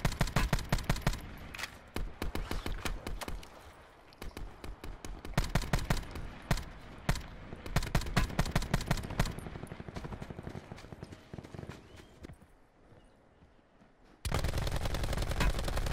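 Repeated bursts of gunfire in the Call of Duty Blackout battle royale mode, sharp cracks and rapid volleys scattered across a loud firefight, thinning out toward the end before a dense, steady roar returns at the close.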